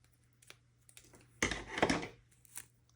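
Scissors cutting a folded paper snowflake: a few faint snips, then a louder, longer crunching cut through the paper, followed by quiet scattered clicks.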